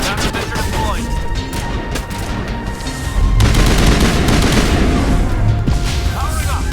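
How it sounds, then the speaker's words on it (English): Gunfire from a tank in the Mass Effect 1 video game rattles in dense, loud bursts with booming impacts, growing heavier partway through, a continuous chaotic battle roar. "He keeps getting shot by the dang tank."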